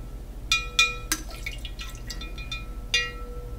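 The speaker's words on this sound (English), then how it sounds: "to expel the remaining liquid" Liquid drains from a transparent catheterization simulator canister in a few distinct, ringing drips and splashes, close and fairly quiet, spaced irregularly with no talk.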